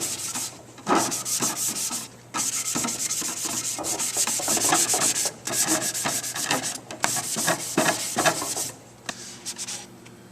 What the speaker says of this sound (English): we need to go ahead and scuff it.